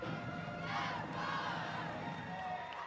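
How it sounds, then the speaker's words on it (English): A large home crowd at an East Surry high school football game cheers and shouts continuously, a loud, dense roar that swells briefly midway and holds steady throughout. "Great home crowd here at East Surry"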